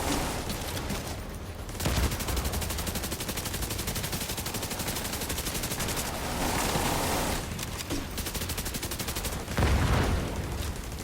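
Enemy fire in The Division 2 rattles in long, fast automatic bursts with brief gaps and a few heavier booming hits, loud and continuous for about eleven seconds.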